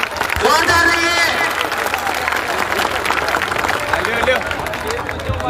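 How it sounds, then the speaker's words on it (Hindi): A crowd at an outdoor village stage event in India applauding loudly and steadily, dense clapping sustained throughout with a voice briefly heard over it near the start. "उसके लिए जोरदार ताली होना चाहिए"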